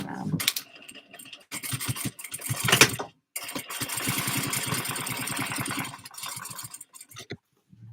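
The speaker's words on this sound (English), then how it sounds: "this will now allow me to stitch that vinyl around" A sewing machine stitches vinyl on a project bag in rapid rhythmic mechanical bursts, stopping and starting between runs, close and fairly loud, alone without speech.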